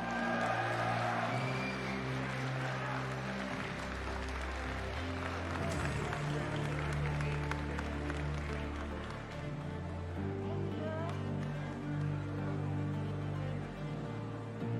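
A crowd at a Mortal Kombat 11 Ultimate tournament at EVO 2022 applauds and cheers in a steady, fairly distant wash of clapping that continues for the whole stretch, with a low hum running beneath.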